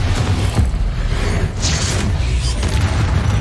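The Confringo fire spell explodes in Hogwarts Legacy with a loud, broad booming blast and crackling debris noise that fills the whole moment without letup.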